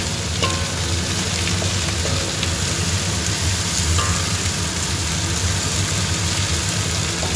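Steady sizzling and frying hiss fills the whole stretch, a constant crackle with faint clinks now and then, no voices.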